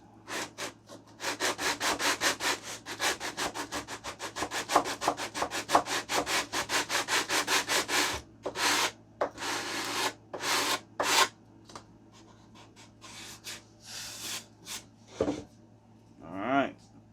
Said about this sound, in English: So we're just going to go ahead and sand that piece.